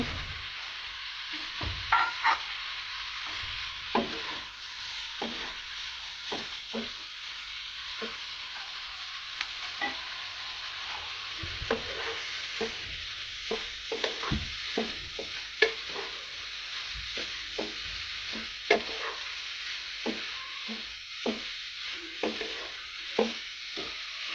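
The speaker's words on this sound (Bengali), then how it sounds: "এবার এর ভিতর দিয়ে দেবো কেটে রাখা ইলিশ মাছগুলো" Cut hilsa fish pieces stir-fried in a pan, a steady loud sizzle of hot oil running throughout with frequent sharp scraping knocks from a spatula at an uneven rhythm, close by and with no voices.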